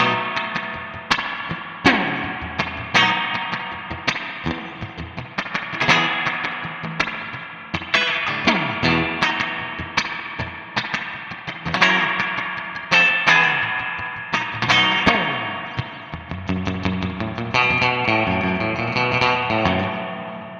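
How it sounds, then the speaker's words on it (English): Electric guitar played through a Danelectro Spring King spring reverb pedal, plucked notes and chords ringing with a splashy reverb tail, loud and alone throughout. "today we're going to be looking at Danelectro Spring King Reverb pedal"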